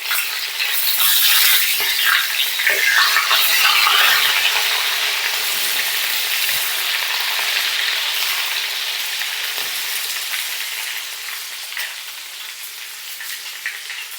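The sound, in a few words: vegetables frying in oil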